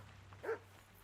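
A dog in the Kingdom Come Deliverance 2 game lets out a single short, faint bark or yip, alone against a quiet low background hum.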